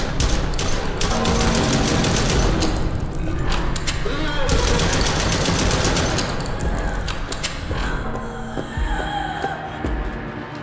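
Rapid bursts of gunfire from the Chuxie video game fill the whole stretch, dense and continuous, thinning slightly toward the end, with game sounds layered in.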